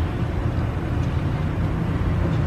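Steady low rumble of traffic going past a Walmart parking lot, a continuous broadband wash with no distinct individual vehicles, heard from a distance and moderately loud, with no talking.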